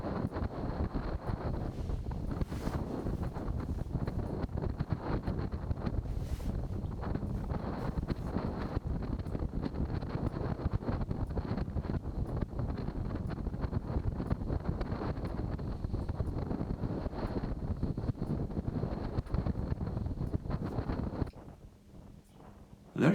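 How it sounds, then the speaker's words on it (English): Strong wind of 30 to 35 knots roars over the microphone aboard a sailing yacht on the North Sea in a two-metre swell, a steady loud buffeting rush that drops away abruptly near the end. "that was in 30 to 35 knots of wind with about a 2 meter swell"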